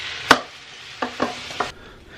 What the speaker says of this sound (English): we're gonna go ahead and add everything into the slow cooker